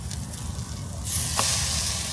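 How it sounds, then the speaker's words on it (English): Food frying in a hot pan at home gives a steady, close sizzle, a broadband hiss that swells louder about halfway through, with a brief crackle near the end and no talking. "Oh, I can hear that sizzling."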